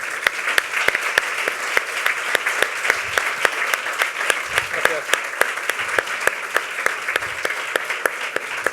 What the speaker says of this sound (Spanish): y a Juan Moscoso, que se han ganado un gran aplauso.